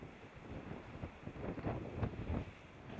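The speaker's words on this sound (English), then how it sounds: "The problem is it is blowing a force 8." A force 8 gale blows at sea around a sailing boat. A faint, steady roar of wind buffets the microphone with irregular gusts and no voices.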